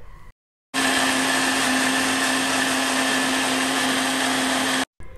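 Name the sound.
mixer grinder jar grinding roasted spices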